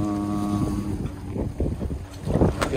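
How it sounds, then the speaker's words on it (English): Wind rushes and buffets across the microphone aboard a sailboat off Honolulu, with engine-like hum and choppy water noise mixed in, a short, continuous burst heard close up. "feeling the wind"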